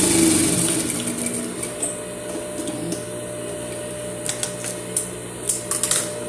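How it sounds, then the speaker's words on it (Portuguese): A sewing machine stitches fabric, with a loud whirring run at the start that gives way to short mechanical bursts and clicks. It is close, with no talking. "Aí tô terminando aqui de costurar a última."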